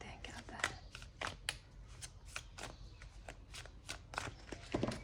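Tarot cards shuffled by hand at close range, with crisp riffling bursts repeating at an uneven rhythm over a quiet background.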